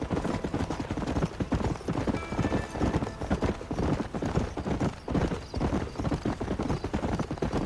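Galloping hooves pound in a fast, continuous rhythm throughout a Red Dead Redemption ride on Xbox 360, loud and close with faint tack jingle.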